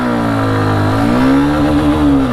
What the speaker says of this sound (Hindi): थोड़ा सा गियर टेस्ट करके देखते हैं किस गियर में बाइक कितना जाएगी